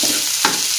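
Fried rice with mustard greens and cabbage being stirred in a hot pan, a steady close sizzle with a brief scrape of the spatula partway through.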